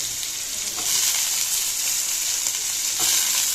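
Onion and potato pieces frying in a pan, a loud continuous close sizzle with stirring swells near the first and third seconds.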